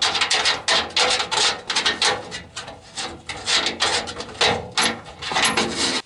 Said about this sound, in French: je défais le boulon du support de ceinture